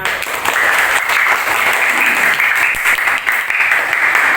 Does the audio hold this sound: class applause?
yes